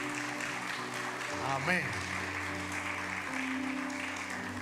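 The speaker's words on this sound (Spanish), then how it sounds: "demos un aplauso de bienvenida a todos" A church congregation claps in welcome during a Sunday celebration, a steady wash of applause running the whole time under sustained musical tones, with a brief spoken word partway through.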